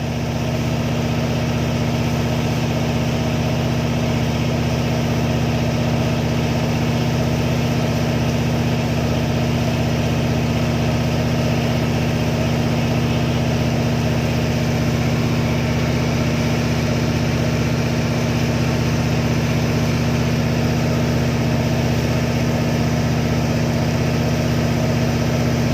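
A tugboat's engine drones steadily at sea off the mouth of the Pattani bay, overtaking fishing boats, a loud constant low hum with vibration and no talk.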